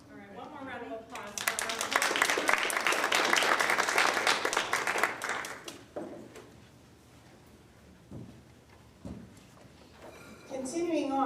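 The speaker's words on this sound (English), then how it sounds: "All right, one more round of applause." A round of applause at a school board of trustees meeting: the room claps loudly for about four seconds, then it tapers off into scattered sounds and quiet room noise, and a voice speaks near the end.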